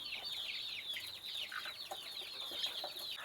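A one-month, three-week-old free-range ayam kampung hen chirps and clucks in a dense, rapid chatter of high peeping calls, fairly soft and continuous, likely joined by other young chickens nearby.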